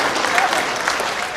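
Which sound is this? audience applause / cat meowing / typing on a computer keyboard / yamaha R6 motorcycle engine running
audience applause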